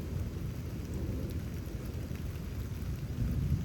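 A May thunderstorm rolls into Houston, Texas, with low, continuous thunder rumbling beneath a steady wash of rain, heard alone without voices.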